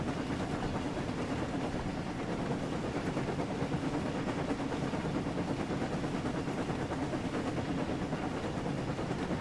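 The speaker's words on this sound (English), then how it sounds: "just taking a look around, listening to the train like this." A train running on the Island of Sodor in the Thomas & Friends Wonders of Sodor video game, a steady, dense rumble with hissing steam noise, unbroken and even in level from start to end with no talk.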